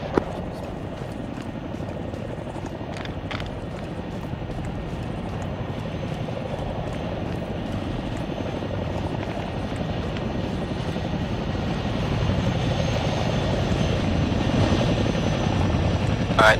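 A helicopter in the military video game Arma 3 drones steadily overhead at night, a continuous rotor and engine roar that swells slightly louder toward the end.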